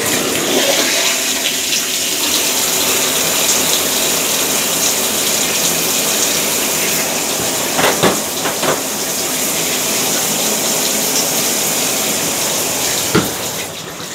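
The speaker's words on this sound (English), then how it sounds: "run our faucet and see if everything works out okay here" Water runs hard from a faucet through a newly installed matte black shower hose, a loud, steady gushing spray that continues throughout with a few small knocks and no talking.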